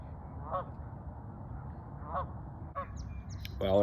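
Geese honk a few times at a distance over a calm evening waterway, heard from a paddle board near where it launched, with short separate calls spread across a steady low background hum and birds chirping.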